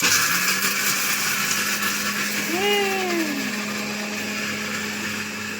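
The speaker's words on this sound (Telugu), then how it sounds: "చిన్న మిక్సీ వేసుకుందాం" A small electric mixer grinder whirs steadily while blending tomatoes for a Telangana-style tomato chutney, a loud continuous motor hum with a pitch that dips briefly as the load shifts.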